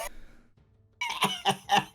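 A person imitates a cough with their voice: a few short, harsh bursts close to the mic after a brief quiet pause.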